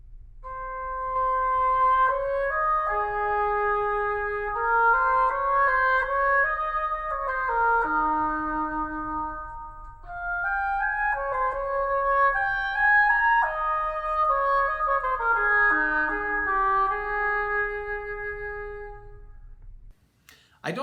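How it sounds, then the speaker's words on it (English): An oboe, a double-reed woodwind, plays a flowing melody of connected notes in two phrases with a short pause between them, clear and alone over a faint low hum. "The oboe might sound like this."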